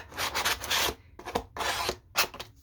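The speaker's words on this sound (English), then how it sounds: "just give it a little bit of a rub" Rubbing along the edge of a cereal box journal cover, a dry scratchy abrasion in four close bursts of varying length, fairly loud and alone with no talk.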